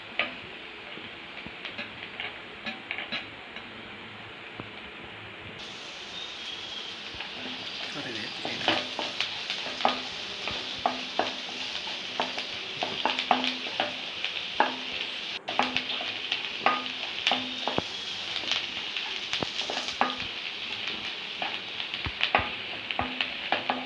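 Ginger, green chilli and garlic fry in a pan for a Malayalam-style chena flower thoran, a steady close sizzle broken by frequent scraping and clicking stirring strokes that grow louder and busier partway through.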